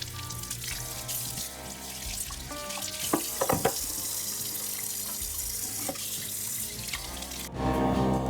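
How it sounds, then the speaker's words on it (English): Juicer parts rinsed under a running kitchen tap, a steady close stream of water splashing and shifting as the pieces are moved through it, with a few clinks, and no talking. "We just rinse it and we put the next vegetable right"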